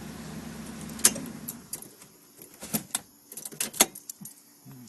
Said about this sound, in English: And I'll turn off the truck now.